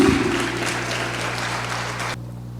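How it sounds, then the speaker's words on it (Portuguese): Church congregation applauding together, a steady dense wash of clapping with a sustained tone beneath that cuts off sharply near the end. "Dá uma salva de palmas para Jesus."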